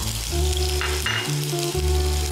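Onion paste hits hot oil with fenugreek seeds already frying, giving a steady, close sizzle with a sustained tonal music bed underneath and no talking.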